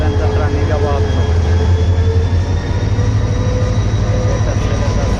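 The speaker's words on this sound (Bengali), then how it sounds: "ট্রেন চলে যাচ্ছে আর একটা" A train pulls out of a station with a loud, continuous low rumble and droning engine hum, steady throughout, with voices faintly mixed in.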